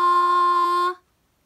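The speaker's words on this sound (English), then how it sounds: "Straight tone is when you sing a sustained pitch with no variation." A single sung note held in straight tone, perfectly steady pitch with no vibrato, loud and close for about one second before stopping cleanly, with no other sound.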